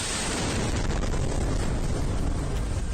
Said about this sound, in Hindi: इस लड़की को देखिए जो कीव की सड़कों पर चलते हुए अपना वीडियो बना रही है और तभी एक बड़ा धमाका होता है।